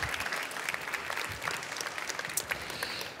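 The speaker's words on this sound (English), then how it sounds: "Big applause, ladies and gentlemen." Audience at a startup pitch event at a trade fair giving a round of applause, dense clapping throughout, moderately near but fairly quiet.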